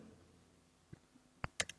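Several sharp clicks from a computer keyboard near the end, following a quiet stretch, as a command is typed into AutoCAD 2022; the keystrokes are close, crisp and sparse.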